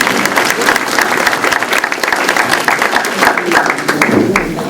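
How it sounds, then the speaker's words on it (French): Audience applause fills a room at a co-op annual general meeting, a dense, steady clapping from a crowd that holds loud throughout. "On peut lui donner une bonne main d'applaudissement"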